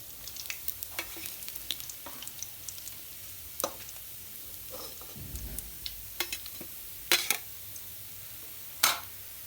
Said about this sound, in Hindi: तो अहिना क सबटा माछ के तैर लेबे।